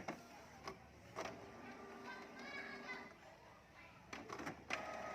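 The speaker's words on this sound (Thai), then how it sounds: "ตอนนี้สังเกตได้ยินเครื่องนะครับ เครื่องก็จะมีการทำงานนะครับ" A Canon G2010 inkjet printer running its ink-cleaning cycle while the ink lines fail to draw ink, giving soft mechanical whirring, ticks and clicks at close range with someone talking over it.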